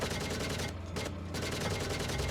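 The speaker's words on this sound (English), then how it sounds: "Switch to our machine gun and firing now." Machine gun on a T-72B3 tank firing in a video game simulation, rapid regular bursts of shots, loud and close, with a brief pause midway before firing resumes.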